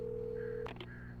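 A single dial-tone-like steady tone from a telephone in the video game Alan Wake, then two quick clicks as it cuts off, set over a low ambient hum.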